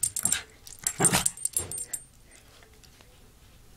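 Dogs whimpering, yelping and shuffling about close by in short bursts over the first two seconds, then quieting to near silence.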